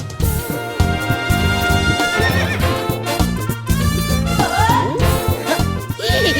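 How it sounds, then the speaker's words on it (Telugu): A horse neighs loudly and repeatedly near a church, with hoof clip-clops mixed in, close and prominent with no speech. "ఎవడన్నా గుర్రం ఎక్కుతాడు, వీడేంటో గుర్రాన్ని ఎక్కించుకున్నాడు."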